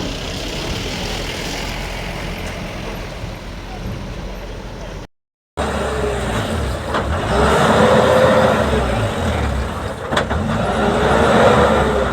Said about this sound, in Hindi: लोडर आ रहा, स्टार्ट रखना गाड़ी।